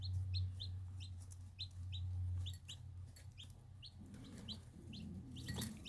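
Baby turkey chicks peep in quick high repeated chirps, close but fairly faint, over a low steady background hum.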